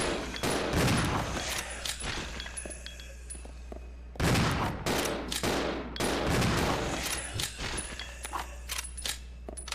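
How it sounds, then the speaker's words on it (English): Bursts of gunfire ring out in the survival horror game Resident Evil 0, loud and close, with rapid volleys of shots, a brief pause, then more sustained firing. "Open fire, Billy!"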